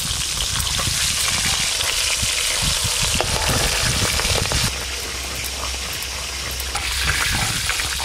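Pieces of fish sizzle and crackle steadily in hot oil in a home kitchen, a loud continuous hiss and spatter with no talking.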